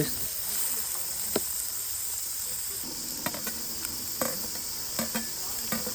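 Tomato added to a pan for chicken pulao fries with a soft, faint sizzle, punctuated by occasional clicks and scrapes of stirring, close and quiet.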